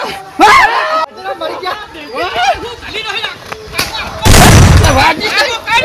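Gunshots in a Gujarati village comedy skit about a quarrel over a farm-field boundary. Two sharp, loud bangs land early and near the end, among shouting and chattering voices.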